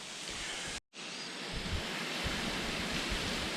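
A waterfall on the Devils Rock Trail pours as a steady, broad rushing roar close by, interrupted only by a split-second dropout near the start.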